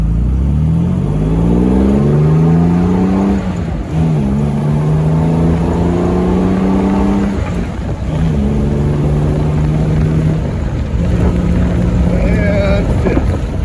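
A 1956 Jaguar XK140 engine pulls hard through the gears, its rising drone climbing, dropping at each shift around four, eight and ten seconds, then climbing again, loud and steady with wind buffeting throughout.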